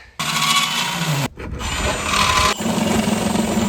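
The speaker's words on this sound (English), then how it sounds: "I'm going to use this little die grinder 1/4 inch end in my drill" A handheld drill fitted with a 1/4 inch die grinder bit whirs, the bit grinding into holes to enlarge them, running in two bursts separated by a brief pause, loud and close.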